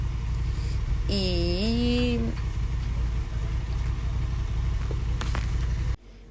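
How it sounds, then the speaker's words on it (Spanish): A motorcycle engine runs close by at a steady low idle, a continuous rumble under a brief spoken sound, until it cuts off abruptly near the end. "había una moto prendida al lado y hacía mucho ruido"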